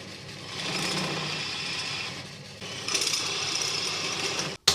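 A drill bores through an aluminium router plate to widen a 14mm hole, a steady high whirring grind that briefly eases and then rises again, close and loud, ending in a sudden cut-off and a short clunk.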